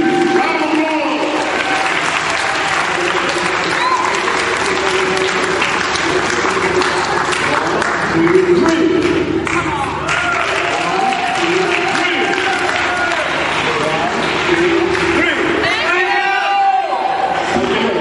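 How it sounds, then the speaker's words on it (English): A large audience gives singers a long, loud round of applause, dense clapping with crowd noise and scattered cheers sustained throughout, a little talk and shouting surfacing near the end. "give them all, everybody, a huge round of applause"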